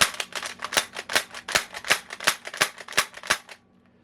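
Adventure Force Desperado Nerf blaster dry fired with no dart loaded: about a dozen crisp, evenly spaced mechanical snaps in quick rhythm, close and loud, then silence.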